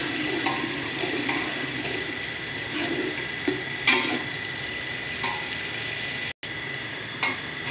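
Tomatoes going into browned onions frying in a pan give a continuous close sizzle with scattered clatters and scrapes, briefly cut to silence near the end, with no talking.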